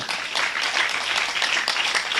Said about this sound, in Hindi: एक बार उस आशीष के लिए ताली बजा दें।